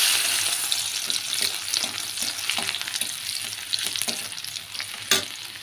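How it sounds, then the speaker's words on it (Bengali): Garlic cloves frying in oil in a pan for a greens dish, a steady dense sizzle with occasional stirring scrapes and clicks, close and continuous without talk. "আমার রসুনটা লাল লাল করে ভাজা কমপ্লিট হয়ে গেল।"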